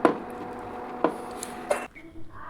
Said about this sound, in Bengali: একটা ছিদ্র বাটির মধ্যে ঢেলে নেব